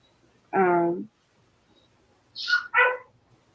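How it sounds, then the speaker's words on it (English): A new puppy yaps once with a harmonic bark, then gives two quick higher yelps a moment later, fairly close indoors with no talking over it. "the dog, the puppy in the background."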